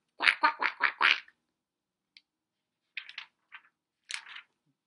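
A human voice imitates a duck, giving a quick run of five loud quacks followed by a few scattered, shorter quacks after brief pauses.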